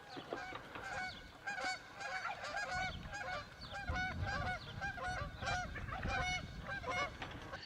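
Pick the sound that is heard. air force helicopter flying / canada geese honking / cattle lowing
canada geese honking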